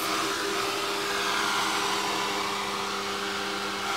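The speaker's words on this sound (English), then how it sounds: "we're going to take this fan and dry our face." A small electric fan blows steadily after makeup and setting spray are applied, giving an even, close whirring hum with a faint tonal drone that holds for the whole stretch, with no talking.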